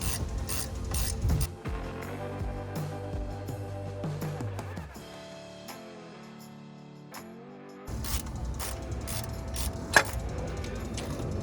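A ratchet backs out alternator bracket hardware on a C10 Chevy in a run of rapid close metallic clicks, then slower turning with tonal mechanical ringing and a quiet lull before the clicking resumes.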